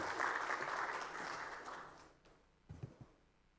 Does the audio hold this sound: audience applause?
yes